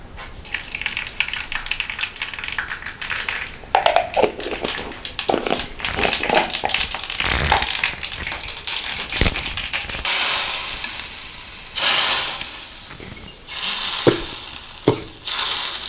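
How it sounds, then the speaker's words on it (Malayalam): Mustard seeds splutter and crackle in hot coconut oil while a Kerala-style crab curry is being started, a dense, loud, continuous sizzle with sharper popping bursts and no talking. "വെളിച്ചെണ്ണ നന്നായി ചൂടായ ശേഷം കടുകിടാം."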